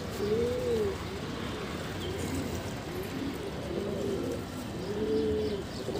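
Pigeons coo repeatedly in soft, throaty phrases against a steady background hum, several calls overlapping at close range.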